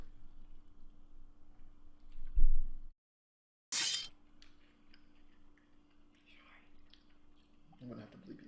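People eat spicy cut potatoes with gravy, producing quiet, close chewing and a few soft crunchy bites, with a brief gap of silence and faint voices murmuring underneath.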